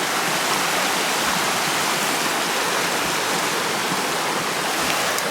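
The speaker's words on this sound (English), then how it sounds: "we made it to our first little like river crossing place" Steady broadband rush of a mountain stream flowing at a river crossing on a Colorado day hike at Maroon Bells, loud and continuous with no talk over it.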